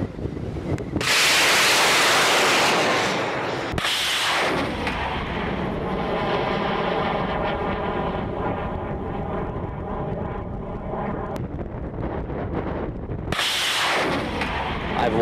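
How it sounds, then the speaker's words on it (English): Sounding rocket with a fully 3D printed engine launching: a sudden blasting roar that holds as a loud, rumbling rush with crackling texture, fades slightly, then swells again toward the end, heard outdoors with some wind buffeting. "This is the highest flying sounding rocket using a fully 3D printed engine"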